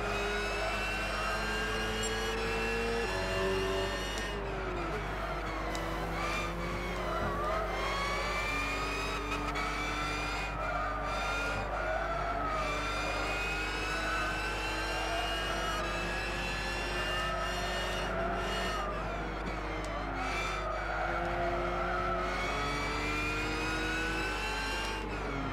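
Touring race cars in a 550 PP World Touring Car Championship in Gran Turismo 6, engines droning and revving through gear changes with rising and falling pitch, a steady continuous roar of close cars.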